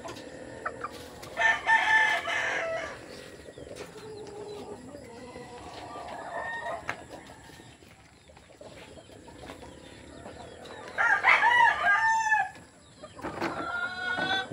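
Breeding chickens, including yellow-legged hatch gamefowl, crow and cluck nearby, with two loud rooster crows several seconds apart and softer hen clucks scattered in between.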